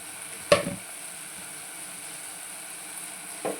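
Semiya (vermicelli) upma being stirred in a pan gives two short scraping strokes, one early and one near the end, over a steady faint sizzle. No one speaks.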